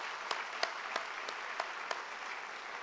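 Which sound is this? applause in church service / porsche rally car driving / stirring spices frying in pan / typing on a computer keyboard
applause in church service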